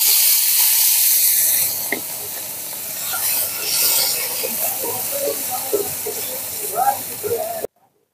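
Boiled potato dropped into hot mustard oil in a pan, a loud steady sizzle and hiss with a few small pops and stirring sounds, cutting off abruptly at the end.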